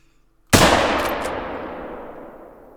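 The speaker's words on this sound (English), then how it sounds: "let's see if we can't make a nice shot on her" A single rifle shot at a blacktail doe in theHunter: Call of the Wild cracks out of near silence, loud and sharp, then trails off in a long echoing rumble.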